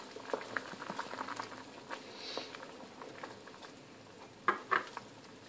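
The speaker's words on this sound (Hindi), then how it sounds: "अब इसको मैं कुछ देर पकाती हूँ" Chicken with chilli simmers in a pan with soy sauce, black pepper, vinegar and stock, bubbling and sizzling softly with scattered faint pops and a couple of sharper clinks.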